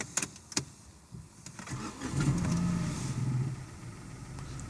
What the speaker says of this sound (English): I thought I may as well try and start it